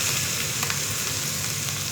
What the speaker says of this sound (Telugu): తాలింపు అయింది. కొబ్బరి చట్నీ వేసుకున్నాం తాలింపుకి.